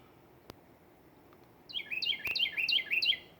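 A cardinal sings in a side yard permaculture garden bed, a quick series of about six bright, clear whistled notes repeated in a steady rhythm, moderately close over quiet outdoor background, with a soft click earlier.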